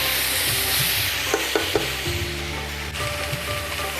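Vegetables for a mixed vegetable diet soup stock sauté in a pan with steady close sizzling, punctuated by a few stirring scrapes and clacks of a utensil against the pan.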